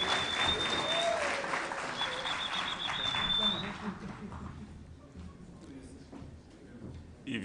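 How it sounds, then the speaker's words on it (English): Applause from the audience at the opening of the 19th ARIPO Session, a dense wash of clapping that stays loud for about four seconds and then thins out and fades, with faint voices beneath it. "A round of applause"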